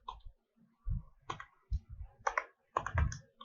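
A computer keyboard clicks in a few short bursts of keystrokes separated by pauses, quiet and close, with no speech.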